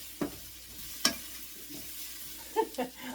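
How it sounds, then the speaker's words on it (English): Carrots being stirred in butter in a skillet: a soft sizzle runs under a few sharp scrapes and clacks of a utensil against the pan, spaced out and close, with no voices. "we want to get the butter coated on all of the carrots"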